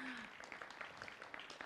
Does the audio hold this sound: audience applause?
yes